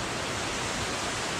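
Heavy downpour drumming steadily on an inshore fishing outing, a loud unbroken wash of hiss with no gaps and no talking.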